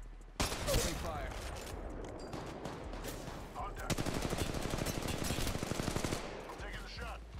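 Rapid automatic gunfire in the mobile shooter Apex Legends Mobile rattles in dense bursts, one long sustained volley in the middle, with game voice lines and a player talking over it.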